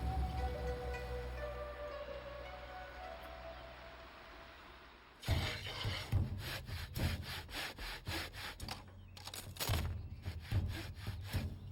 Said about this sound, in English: The craftsmanship involves sawing,